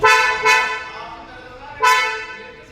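A Kia Seltos 1.5 HTX Plus IMT horn gives three short chirps while it is locked with the key fob, two close together and a third a moment later, each ringing out and fading.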